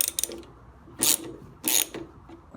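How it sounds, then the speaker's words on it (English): Screws being backed out of the motor mount on a Hotpoint HE8L493 washing machine, with a few light ticking turns followed by two louder bursts of metallic ratcheting, close and alone. "I'll slip off the belt, just like that, and take out these screws."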